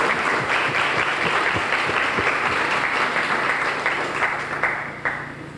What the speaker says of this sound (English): Please give another round of applause to Mike.